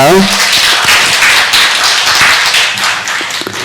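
A church congregation claps together in praise of God, a loud, close burst of many hands that starts full and gradually thins, with a voice briefly audible at the start.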